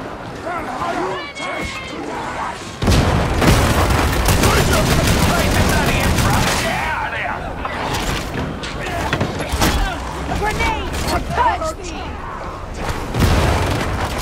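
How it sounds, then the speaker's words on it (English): A grenade explosion in the video game Warhammer 40K Darktide: a loud, sudden boom breaks into ongoing rapid gunfire and clattering combat noise, with voices shouting over the chaos. "This grenade obliterates our foe!"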